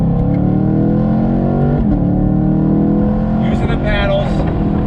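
A 2019 Chevy Camaro SS convertible pulls away from a traffic light on throttle, its V8 engine rumbling loudly and rising in pitch, with a shift midway, under someone talking.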